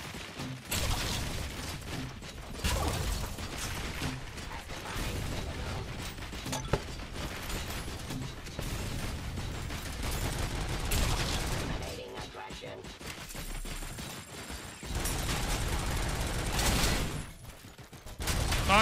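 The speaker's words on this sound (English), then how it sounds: "grenade launcher može." A grenade launcher fires in the video game RoboCop: Rogue City, heard as heavy, dense bursts of blasts and crashes that come and go over continuous loud game noise.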